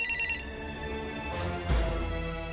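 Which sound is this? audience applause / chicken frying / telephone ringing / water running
telephone ringing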